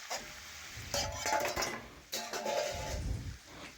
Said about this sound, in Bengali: এবার আবারও নাড়াচাড়া করে একটু কষে নিচ্ছি সবজি